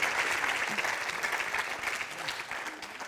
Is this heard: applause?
yes